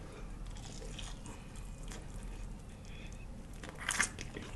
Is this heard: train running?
no